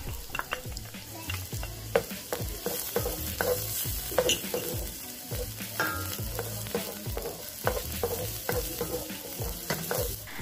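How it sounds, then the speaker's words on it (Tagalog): Onion and garlic sizzling steadily in oil in a frying pan, with repeated scraping and stirring strokes across the pan, close and continuous with no talk. "Igisa po natin itong mabuti at hayaang maging translucent. Ngayon ay ilagay naman po natin ang bawang."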